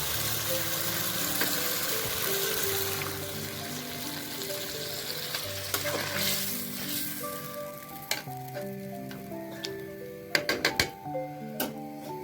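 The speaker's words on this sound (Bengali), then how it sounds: "সাথে আলু আছে সিম হয়ে গেছে এখন পানি দিয়ে দেবো" A pan of pangas fish curry with beans and potatoes sizzles and bubbles steadily after water is added, the close, continuous frying hiss broken near the end by a few sharp clinks of a stirring utensil.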